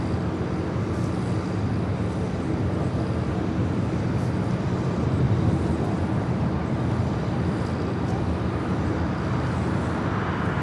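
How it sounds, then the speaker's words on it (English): United Dreamliner airliner taxiing at LAX airport: a steady, loud jet engine roar with broadband rumble, holding an even level throughout with no talk. "That United Dreamliner now taxiing to the runway."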